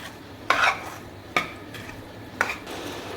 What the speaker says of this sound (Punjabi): ਹੁਣ ਆਪਾਂ ਚੰਗੀ ਤਰ੍ਹਾਂ ਮਿਕਸ ਕਰ ਦਿੰਨੇ